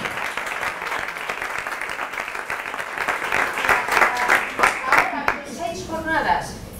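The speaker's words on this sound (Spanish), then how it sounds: "os pido también un aplauso para Estefano." Audience applause at a university innovation day presentation, many hands clapping steadily and swelling louder midway, with individual claps audible, then a voice begins speaking as the clapping fades out.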